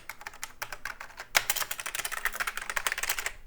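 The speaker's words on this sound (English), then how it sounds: "Keyboard test." Typing on the keyboard of a Commodore Amiga 600 home computer: a steady stream of crisp, close plastic key clicks, with a brief pause and then a faster run of keystrokes.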